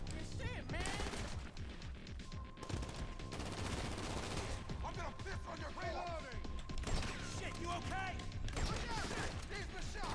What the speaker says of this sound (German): Irgendwie schießt einer noch von da rechts ein bisschen